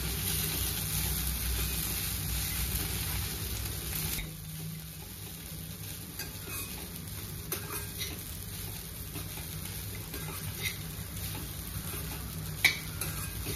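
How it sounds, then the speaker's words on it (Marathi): Poha flakes stirred into fried onions in a pan for Maharashtrian kanda poha, a steady scraping stir over a soft continuous sizzle with occasional clinks of the spoon, close and moderately loud. "आता आपण ह्याच्यामध्ये हे पोहे घालणार आहोत। आता हे व्यवस्थित मिक्स करणार।"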